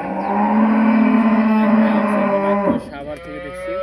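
A Jersey cow gives one long, loud, close moo that holds steady for nearly three seconds before breaking off, followed by quieter farm background with no talk.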